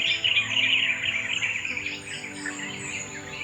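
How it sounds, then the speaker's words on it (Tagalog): Birds chirp and sing steadily outdoors on a breezy hillside, with bright overlapping calls running through the whole stretch and a low background of wind. "Umaawit yung mga ibon."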